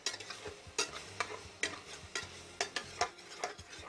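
Salmon croquette mixture with shrimp is stirred in a bowl: a spoon scrapes and taps in an uneven rhythm of soft clicks and wet scuffs, close and fairly quiet, with no talking.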